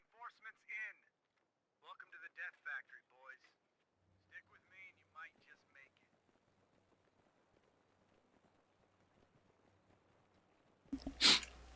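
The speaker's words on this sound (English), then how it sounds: "Might sneeze a second, guys. Excuse me." A single loud, sharp sneeze bursts out near the end, after stretches of quiet speech and near silence.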